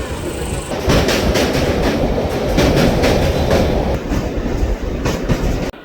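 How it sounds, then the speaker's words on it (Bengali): Train pulling into Bangaon station, a loud rolling rumble with rhythmic clickety-clack of wheels over rail joints, close by and continuous before a sudden cut at the end. "আজকে একদম টাইমেরও আগে ট্রেন ঢুকে যাচ্ছে।"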